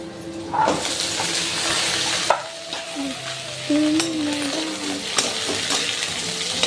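Okra and onion fry in a pan with a continuous sizzle, broken by occasional stirring clatter and scrapes close by.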